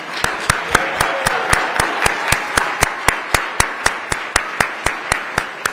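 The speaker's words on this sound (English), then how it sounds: "Let's extend this round of applause for Assistant Attorney General Kristen Clarke." Slow, evenly spaced claps ring out one after another, about four per second, steady and fairly close, at an honoring ceremony for Assistant Attorney General Kristen Clarke during a Justice Department Civil Rights Division event.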